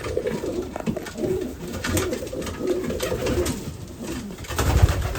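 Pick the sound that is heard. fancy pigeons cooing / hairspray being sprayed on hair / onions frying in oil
fancy pigeons cooing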